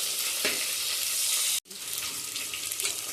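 Onion and curry leaves frying in a pan for peas kushka: a steady, close hiss of sizzling oil throughout, briefly cut by a momentary silence midway, with soft stirring scrapes and no talking.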